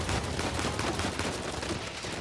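A steady stream of rapid gunfire in Uncharted 4 fills the scene, shots hammering in quick succession at a gas tank with dense, continuous crackle and no clear pauses.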